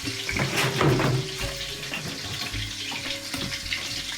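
Sausage frying in a hot pan gives a steady, close crackling sizzle across the whole clip, fairly loud, with a few brief clatters and no voices.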